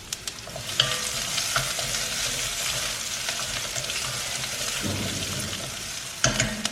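Dried red chilies, spices and onion sizzle and crackle steadily in hot oil, close up, with occasional scrapes of a spoon stirring the pan.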